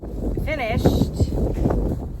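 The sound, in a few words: wind noise on microphone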